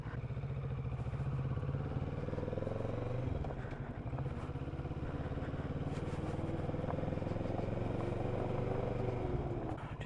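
A Kawasaki Z650RS 50th Anniversary Edition motorcycle rides along on a hot summer day, its engine droning steadily with wind rush and mechanical clatter, no talking.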